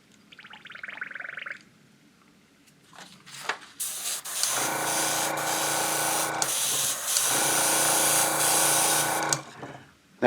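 An airbrush sprays thinned paint onto a vinyl car top: a short hiss, then a pause with faint handling noises, followed by a loud, continuous airy spray that cuts off near the end.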